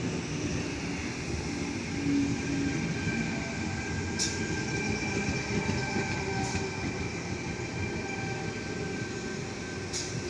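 A Lindfield-service commuter train rumbles into platform 2 at Waverton station during the afternoon peak, with a sustained low roar, faint wheel squeals and a few sharp clicks, no one speaking.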